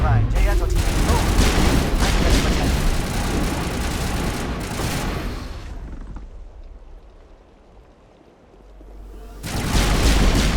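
Loud, dense gunfire and artillery blasts from Geth turrets in the Mass Effect game, a continuous barrage that eases into a quieter lull before heavy fire surges back, with a few voices under the din.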